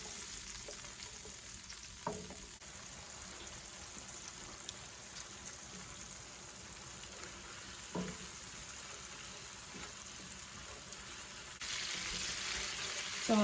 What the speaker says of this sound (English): So let's cook this sauce for about a minute.